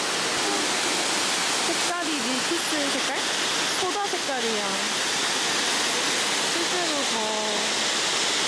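A White Beard waterfall in summertime Hokkaido gives off a constant, loud rushing roar. People chat over the water noise.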